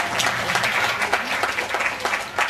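Zoo visitors at Blackpool Zoo applaud Ronaldo the parrot after a show trick, a lively patter of crowd clapping with distinct sharp claps throughout, fairly close and loud.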